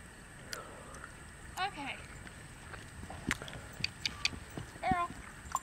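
Horse hooves clip-clop at a barrel racing session, a few uneven hoofbeats amid outdoor background noise with a voice speaking over them.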